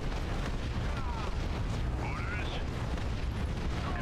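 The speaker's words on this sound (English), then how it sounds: "Barrage incoming! Find me that damn mortar battery!" An artillery barrage in the Dawn of War 2 strategy game, a continuous low rumble of booming impacts with game voice effects faintly heard over it.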